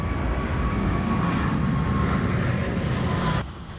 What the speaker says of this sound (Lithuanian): Lėktuvėliai be perstojo, kyla ir leidžiasi kažkur.